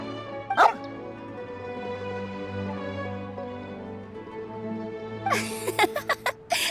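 Swaff, a dog in the video game Genshin Impact, gives a sharp bark near the start, then a burst of several quick barks near the end over steady low background music.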